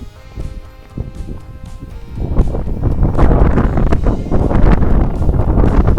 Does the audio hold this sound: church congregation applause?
no